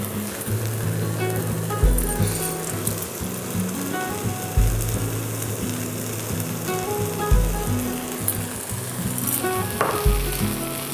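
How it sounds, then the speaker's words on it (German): A whisk mixes chickpea flour, spelt flour and oat milk into a thick batter for vegan aubergine schnitzel, with continuous close scraping and a low knock against the bowl every few seconds. "Jetzt vermengen wir das Ganze mit unserem Schneebesen"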